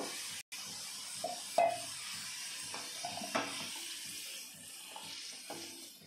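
Potatoes frying in oil in a pan for a Bengali paneer masala make a low, steady sizzle with a few brief scraping and clinking spatula touches, quiet and close, with no voices.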